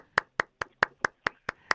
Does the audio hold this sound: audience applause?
yes